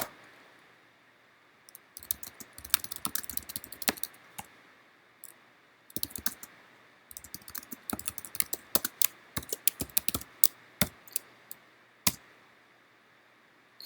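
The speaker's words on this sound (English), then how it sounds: "I'm going to type in a few search terms." Rapid bursts of keyboard typing, clicky keystrokes coming in irregular runs separated by short pauses, close and clear.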